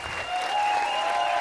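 Applause from a comedy club audience at the close of a stand-up show, a steady wash of clapping that stays even and sustained, with a whistle-like tone running through it.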